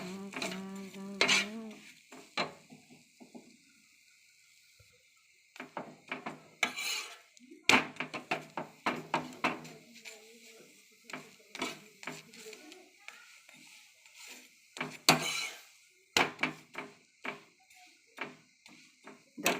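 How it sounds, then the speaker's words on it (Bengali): A square paratha fries in oil on a flat griddle, giving soft sizzling broken by frequent scraping, stirring and utensil clatter against metal, close by, with a few short quiet gaps. "চাটুতে দিয়ে দেবো। দেখো তেল দিয়ে দিয়েছি"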